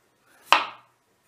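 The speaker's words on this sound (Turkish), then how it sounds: "Şöyle güzel keskinli bıçakla incecik doğruyoruz." A sharp knife cuts through a potato in a single crisp chop on a board, a short, close, isolated slice that fades quickly into quiet.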